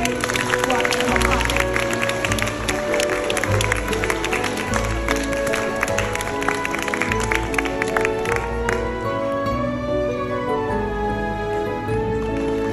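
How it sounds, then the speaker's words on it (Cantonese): An audience applauds at a school graduation prize-giving, sustained clapping from a crowd in a hall mixed with background music and some voices, loud and continuous before easing slightly toward the end. "我哋俾啲掌聲"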